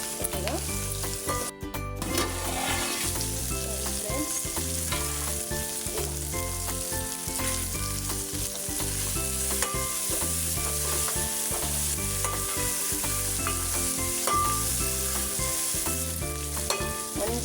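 Okra fries in oil for a homemade curry, giving a steady, unbroken sizzle with occasional stirring scrapes, fairly soft and constant throughout.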